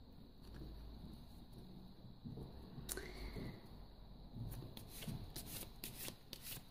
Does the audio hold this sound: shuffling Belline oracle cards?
yes